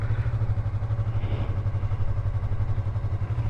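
A Yamaha MT03 motorcycle engine runs steadily at low revs in first gear, a continuous close throbbing hum with a faint clatter as it eases off.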